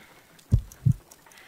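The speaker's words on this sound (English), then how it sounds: "I need to concentrate and count the heartbeats." Heartbeats in a Sherlock video game, two low, deep thumps about a third of a second apart, close and alone over a faint background hum.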